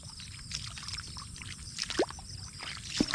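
An irrigation system sprays water over an onion field outdoors, making a steady medium-level wash and patter with a few brief splashes and knocks over it.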